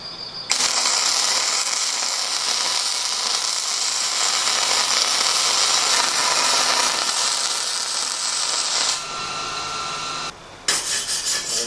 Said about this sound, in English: I think it's just time to go ahead and weld it all up, welding opposite sides.